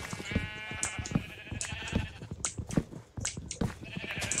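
Sheep in Minecraft bleat repeatedly, several short, nasal cries overlapping in quick succession, close and clear with no talking.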